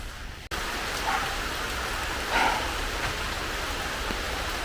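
Steady, close rain falling in a broad even hiss, a heavy downpour with a couple of slightly louder surges and no voices.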